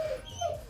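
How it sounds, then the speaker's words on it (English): A pet dog gives a short whimpering, yipping bark, close and brief, with a whiny rising tone indoors. "so my dog's barking"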